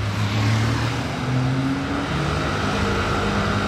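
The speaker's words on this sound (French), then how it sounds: "Oula, F40." Ferrari F40 sports car passing at night during Monaco Grand Prix week 2022, a loud engine drone with shifting pitch sweeping by close, no voices.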